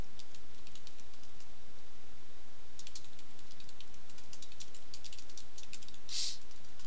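Fingers type on a computer keyboard, entering text into a notepad file: quick bursts of light clicking keystrokes in irregular runs, close and fairly quiet over a steady hiss, with one sharper clack near the end.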